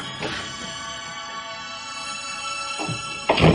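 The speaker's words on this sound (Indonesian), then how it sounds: "Suara pintu dikunci." A door being locked as a radio drama sound effect: soft clicks and a thunk near the start, a quiet stretch, then a louder metallic latch and bolt clack at the end, close and alone.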